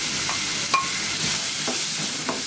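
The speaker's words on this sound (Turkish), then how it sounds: "Soğanlar pembeleşene kadar kavuracağım." Onions sizzle steadily in hot oil, a constant frying hiss with occasional scrapes and clinks of a utensil stirring the pan.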